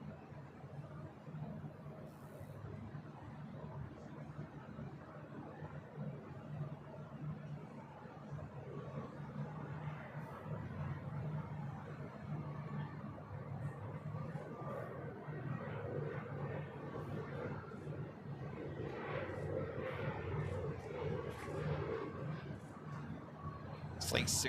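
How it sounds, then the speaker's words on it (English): A KLM Boeing 787-10 Dreamliner from Amsterdam touches down on runway 25 left at LAX, its distant jet roar building steadily over a long stretch beneath faint airport background noise. "Flight 601 coming in from Amsterdam, 787-10 Dreamliner touching down on 25 left"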